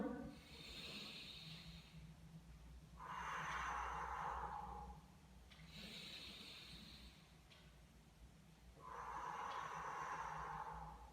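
Forceful exhales pushed through the nose during a choreography studio breathing exercise, repeated in four strong hissing bursts with quieter breaths between, close and fairly faint, with no talking.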